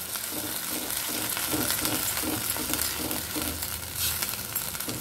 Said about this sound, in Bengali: কপি পাতার পেস্টটা দিয়ে দিয়েছি, এবার ভালো করে নাড়িয়ে দিচ্ছি